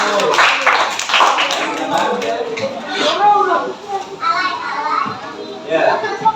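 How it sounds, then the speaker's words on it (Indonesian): Schoolchildren in a classroom clap for a discussion group, giving brisk, uneven applause mixed with lively children's chatter and voices throughout. "Beri tepuk tangan untuk kelompok 1."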